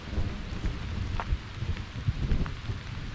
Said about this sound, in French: il commence à tonner, ça tombe fort